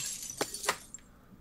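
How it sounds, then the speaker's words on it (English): Objects smash and shatter like breaking glass in the horror game Resident Evil Village: two sharp crashes close together, then a faint clink, with no one talking. "Sorry about smashing your stuff."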